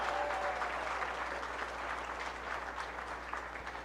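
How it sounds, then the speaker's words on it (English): A crowd in a county fair show ring applauds contestants of a Farm Bureau ambassador contest, a steady wash of clapping heard from some distance, moderately faint and sustained throughout. "give all the contestants a big round of applause for a job well done"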